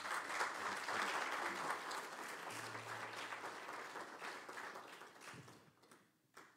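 A church congregation claps hands in praise, a dense, fairly distant patter of many hands that runs steadily for several seconds, then gradually thins and fades toward the end, fairly quiet overall.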